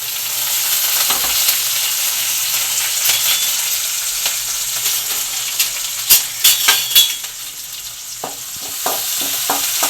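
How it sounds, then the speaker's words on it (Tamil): Onion, broken dried chilies and curry leaves sauté in oil in a pan, a loud continuous sizzle broken by repeated scraping and clinking strokes of a spoon stirring. "நல்லா வதக்கிட்டுக்குவோம்."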